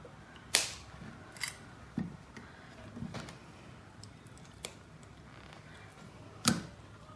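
Memory wire for jewelry making snipped with cutters, sharp isolated clicks and snaps at irregular intervals, a louder crisp cut near the start and another near the end, over quiet room background.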